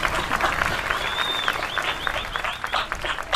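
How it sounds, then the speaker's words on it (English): A live studio audience gives steady applause with scattered cheers and a whistle, sustained and close for a few seconds. "Clap it up for that."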